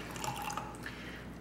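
Water is poured into a FuelshakerPro shaker bottle for a casein shake, a steady trickling, dripping stream close up and fairly quiet, with no talking.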